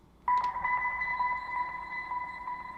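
Slowed dolphin squeak at quarter speed, processed with reverb, delay and grain delay, forming a steady sustained tone with a brief chirpy onset.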